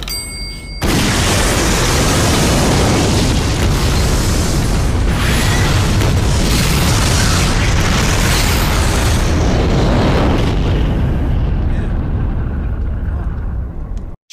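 Movie bomb explosion: a sudden, very loud blast that swells into a long roaring rumble with crackling debris, sustained for many seconds before tapering, with speech faintly mixed in.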